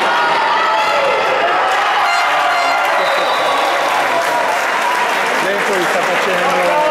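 Fans at an amateur sports match cheer and applaud loudly and continuously, a dense wash of crowd noise with whistles and shouts throughout, close and unbroken.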